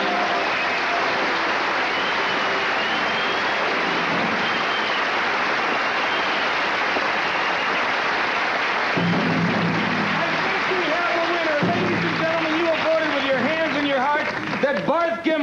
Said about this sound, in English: Just go ahead and have the applause off.